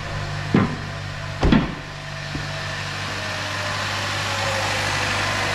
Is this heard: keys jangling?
no